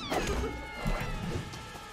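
Cat meows from the video game My Time at Sandrock, a couple of short mewing calls over a busy game soundscape with thumps and clatter, fairly close and moderately loud.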